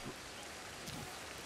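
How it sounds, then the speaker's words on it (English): Soft, steady rain hisses faintly in the Ancestors: The Humankind Odyssey game, a continuous even wash with no voices. "And it's raining, yay!"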